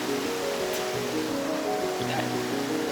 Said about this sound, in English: Here we are out in the middle of the creek.